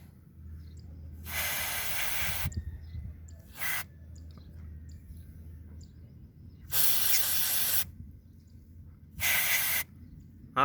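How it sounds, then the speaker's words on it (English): Aerosol cleaner sprayed onto the steel sensing wires of a Toyota Corolla air flow sensor: four sharp hissing bursts of varied length, two short and two longer, separated by quiet gaps. "now we are going to spray the steel wires"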